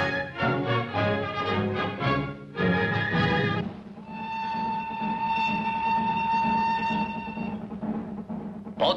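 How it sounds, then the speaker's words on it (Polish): A passenger train on a Polish railway in 1951 pulls away, a long steady whistle or horn tone sounding over the rumbling, clanking rolling stock, loud and close, with no voices. "Pociąg wyruszył w przeddzień Sylwestra."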